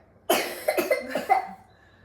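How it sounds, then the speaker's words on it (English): A young child coughs close to the microphone, three or four quick wet coughs in a short burst inside a quiet kitchen. "Yeah, just one cough coming."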